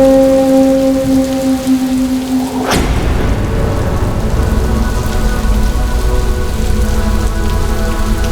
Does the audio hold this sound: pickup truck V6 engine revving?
no